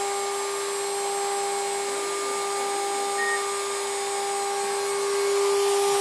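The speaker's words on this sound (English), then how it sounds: "Machine's over here running." A 2.2 kW Chinese spindle driven by a Hitachi X200 VFD spins on a bench test, giving a steady, unchanging high-pitched electric whine with a faint airy rush beneath it throughout.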